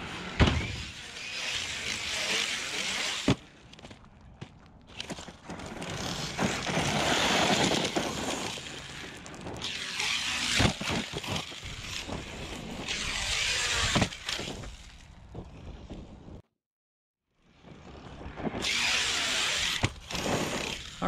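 An ARRMA Kraton EXB RC car tearing around a gravel pit, its electric motor whining loudly in long bursts with crunching gravel, a brief dropout of silence near the end before the whine returns, with no talking.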